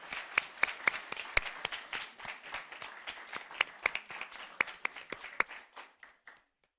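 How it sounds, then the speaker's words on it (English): A school board meeting audience claps in a scattered round of applause for an honored educator, individual claps sharp and distinct, thinning out and stopping near the end. "Let's give Ms. Gray another round of applause."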